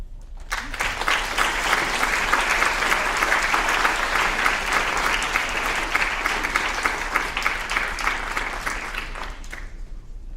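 Sustained audience applause from a school writers' week assembly, a dense steady roar of many hands clapping that continues for about ten seconds before fading, with no talk over it.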